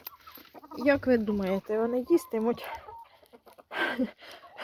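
Hens cluck and chatter close by while eating food scraps, a run of rapid clucks mixed with someone speaking nearby.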